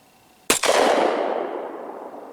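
A single loud gunshot from a Glock model 40 pistol firing HSM Bear Load 200-grain ammunition outdoors, a sharp crack followed by a long rolling echo that fades slowly.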